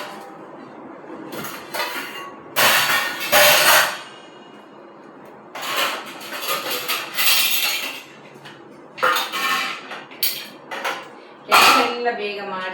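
Washed pots and metal vessels being stacked onto a kitchen stand, a series of close clanks and clinks in irregular bursts with quiet gaps between.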